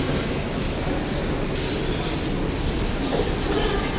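A metro train in a Budapest station, a continuous loud rumble of wheels and carriages with broadband roar throughout.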